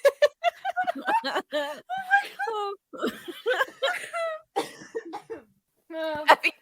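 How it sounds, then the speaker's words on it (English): Several people cough and laugh together in close, bursty fits mixed with chuckles and voiced sounds, with short gaps between outbursts. "We're all coughing."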